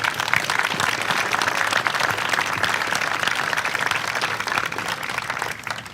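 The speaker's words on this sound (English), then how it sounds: "I think each of the contractors deserve applause for the quality of work that they did." Loud, dense applause from a gathered crowd at a Springbrook open house in Fridley, Minnesota, honoring the building contractors, a steady wash of clapping sustained for six seconds.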